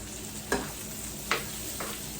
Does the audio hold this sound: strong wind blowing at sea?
no